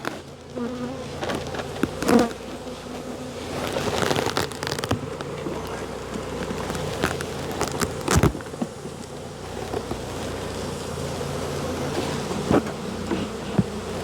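Honey bees buzz in a dense, continuous drone from an open hive while a beekeeper works a demaree, with occasional knocks and clatters of frames and boxes close by.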